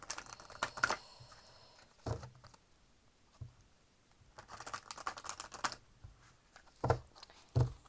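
Tarot cards are shuffled by hand in quiet, close, soft papery bursts of riffling and pattering, separated by short pauses.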